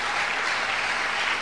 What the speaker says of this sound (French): Maintenant, une grande acclamation pour notre Seigneur.